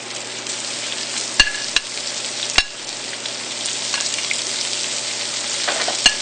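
Fresh tilapia and shrimp frying in a pan with garlic, a continuous crackling sizzle with a few sharp clicks of utensils against the pan, close and without speech.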